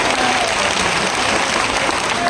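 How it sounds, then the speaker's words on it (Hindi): A mushaira audience claps together in dense, steady applause that fills the whole moment evenly, loud and close. "पीछे तक जो दोस्त हैं एक बार मुझे ताली बजा के माहौल दे के"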